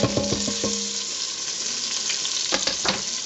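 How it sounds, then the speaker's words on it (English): Onions just added to a pan over medium heat for a chicken dish, crackling and sizzling close by, with a few clinks of a utensil at the start and short bursts of stirring near the end. "lower your heat to medium, and add your onions."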